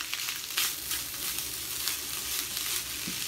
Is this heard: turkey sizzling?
yes